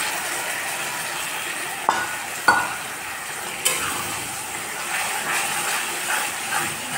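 Mustard paste frying in a pan with tomatoes and onions for a Bengali fish curry, a close, steady sizzling hiss with a few sharp clinks of a utensil stirring against the pan.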